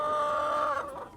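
Chickens in a farm coop give a drawn-out, tonal cluck-like call close by that trails off after about a second, heard alone without talk.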